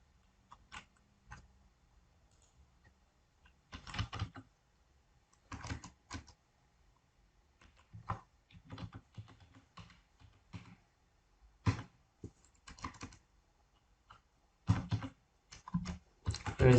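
A computer keyboard is typed on in irregular bursts of clattering keystrokes with quiet pauses between them, close and crisp, with the last few seconds busier and louder.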